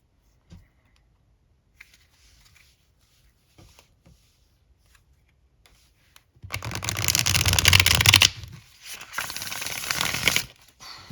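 A Lo Scarabeo tarot deck being shuffled, with sparse soft card clicks at first, then a dense, loud riffling burst for about two seconds followed by a second, slightly softer flurry of shuffling.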